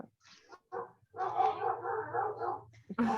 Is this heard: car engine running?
no